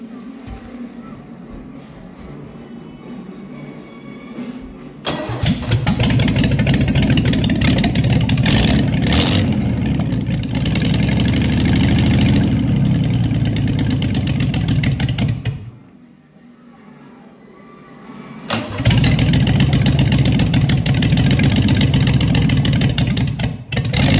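A carbureted Chevy inline-six engine on a car fires up and revs, with a quieter stretch before it catches. The engine runs loud in long, sustained pulls, briefly drops off, then roars back.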